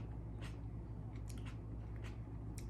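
Close, faint crunching bites into a tomato and wet chewing, a few crisp snaps spaced irregularly over a low steady hum.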